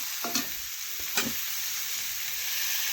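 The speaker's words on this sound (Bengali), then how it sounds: "এটাও ভালোভাবে নাড়াচাড়া করে মিশিয়ে নিচ্ছি" Chopped tomato with salt and spices stirred in a frying pan, two soft scraping strokes of the spoon over a steady faint sizzle.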